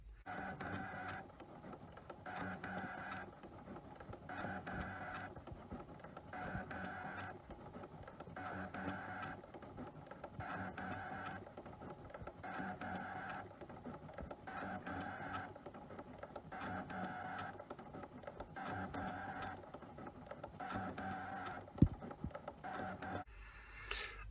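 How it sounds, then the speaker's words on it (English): A cutting machine works through a plastic sheet with a steady mechanical whir and rhythmic pulsing passes repeating every couple of seconds, fairly quiet and continuous. "you end up asking the machine to cut the plastic out"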